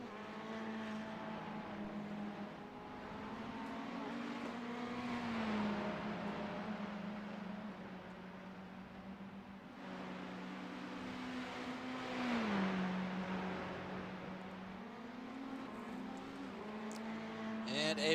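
Ferrari 488 EVO race cars lap VIR in a racing game, engines droning and revving with two rising, falling passes, distant and fairly quiet, with a commentator talking over them.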